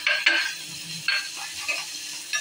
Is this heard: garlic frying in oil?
yes